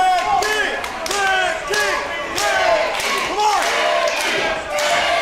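A wrestling crowd in Miami, Florida cheers and chants in loud rhythmic waves, many voices rising and falling together with scattered shouts and a few thuds, close and dense.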